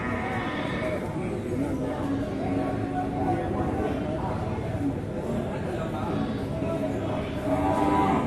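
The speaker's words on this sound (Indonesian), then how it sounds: "Kita lihat sapi-sapi diikat di sini." Aceh cattle low now and then at a busy livestock market, where crowd chatter and general bustle fill the air and people talk throughout.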